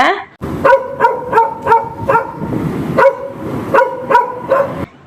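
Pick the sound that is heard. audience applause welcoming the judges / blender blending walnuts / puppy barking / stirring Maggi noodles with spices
puppy barking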